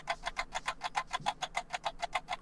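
A tick-tock clock effect played from a soundboard, a steady run of crisp, evenly spaced ticks, roughly five per second, clear and dry with nothing else around them.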